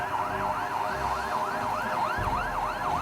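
A police jeep siren wails continuously in a rapid rising-and-falling cycle, loud and steady throughout with no voices.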